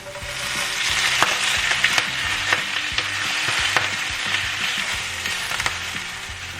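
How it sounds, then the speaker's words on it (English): Green onions sizzle loudly in smoking hot vegetable oil while being stirred, a steady frying hiss with repeated scrapes and clinks of a utensil against the pan. "so I'm gonna add my green onions and stir it for about 30 seconds until they begin to wilt"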